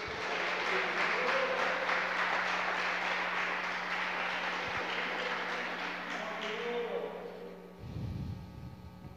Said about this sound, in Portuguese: Você pode dar uma salva de palmas para esse Jesus?